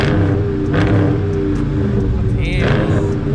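Car exhaust in auto mode rumbling and revving close by, a steady deep engine drone with a rising rev near the end, while people talk over it.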